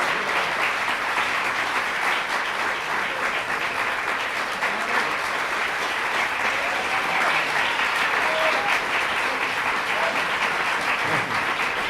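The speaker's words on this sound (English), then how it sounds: "This applause could go to your head." Sustained applause from a concert audience at the Seedtime 1990 festival, dense steady clapping that fills the whole stretch at an even loudness with no voices rising above it.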